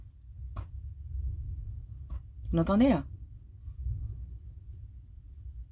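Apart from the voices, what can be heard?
wind blowing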